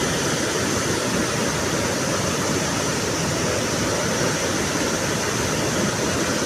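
River water at the confluence of two rivers rushes in a constant, loud, broadband roar with no pauses, close and steady throughout.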